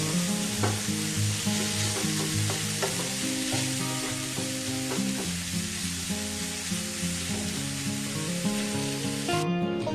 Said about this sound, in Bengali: এবার কিমাটা সব মশলার সঙ্গে ভালোভাবে মিশিয়ে একটু কষিয়ে নিতে হবে